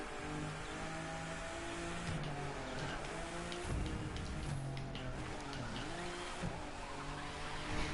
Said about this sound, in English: drifts like that are so hard to pull off